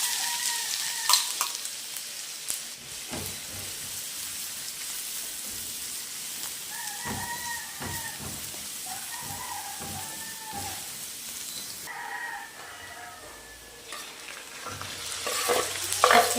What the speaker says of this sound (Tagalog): Ayan, maglagay na po tayo ng sibuyas at bawang.